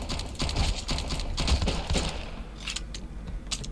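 A gun fires rapidly in the video game Sunkenland, a burst of quick, close, sharp cracks that thins out into a few scattered shots near the end.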